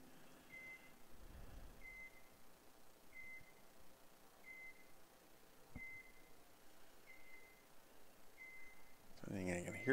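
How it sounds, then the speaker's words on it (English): A forklift's reversing alarm beeps faintly in the distance at an outdoor championship game in Oklahoma, a thin tone repeating about every second and a quarter. The beeps sit over low background noise, and a louder sound rises at the very end. "I think I can hear the forklift"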